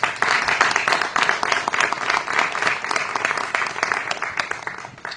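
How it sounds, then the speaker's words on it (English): Sustained applause from an audience honouring a speaker at an event, a dense, steady wash of many hands clapping that holds for several seconds, with faint voices underneath. "Please give her a round of applause"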